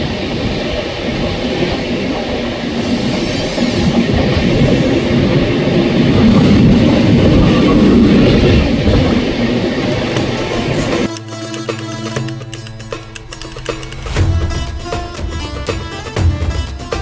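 A passenger train bound for Pune, heard from on board, gives a loud, continuous rumble with wheel clatter. Partway through, the sound shifts to sharper, brighter rattling, and no one speaks.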